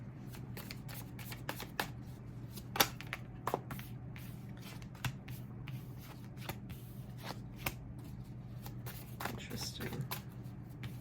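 Tarot cards being shuffled by hand in a quiet room, a soft, continuous riffle and flutter with frequent small card snaps over about eleven seconds, with no talking.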